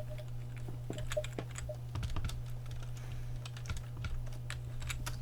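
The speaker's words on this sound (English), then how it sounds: "Damn, Seth, you fucking typing aggressively." Fast, forceful typing on a mechanical computer keyboard produces a close, steady stream of sharp clicks over a constant low electrical hum.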